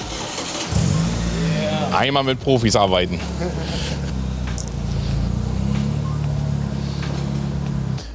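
An old classic car engine cranks, catches and fires up, then revs and settles into a steady, loud running rumble while voices talk over it.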